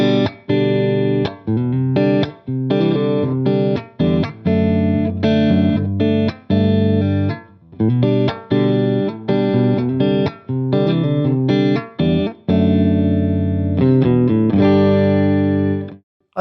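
Electric guitar on its neck single-coil pickup, run through a Cali76 compressor and an Anxiety overdrive, plays a choppy rhythmic pattern of short sustained chords with brief gaps, loud and close, with no speech.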